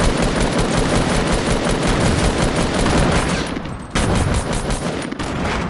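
Dense, continuous automatic gunfire from a video game firefight, loud and sustained with rapid overlapping bursts, a brief dip before the shooting resumes at full intensity.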